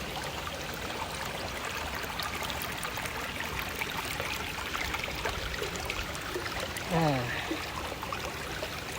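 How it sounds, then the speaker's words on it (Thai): Forest stream water rushing steadily over a small waterfall, a constant broadband wash of flowing water with a brief brighter burst near the end. "แค่ฟังเสียงน้ำตกก็เพลิน แล้ว"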